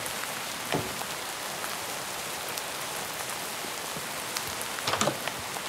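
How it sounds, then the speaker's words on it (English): Steady rain in Minecraft falls as a constant, even hiss of drops on surfaces, with a few slightly louder patters scattered through, moderately quiet and unbroken by talk. "I already have a house, but why is it raining? I don't like the rain."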